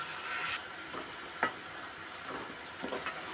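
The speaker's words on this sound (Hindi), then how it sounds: "इसको अच्छी तरह मिक्स करके भूनना है" Eggplant stirred into a frying tomato masala with arvi in a pan, giving a steady sizzle broken by several distinct spoon scrapes and clinks, close and alone without speech.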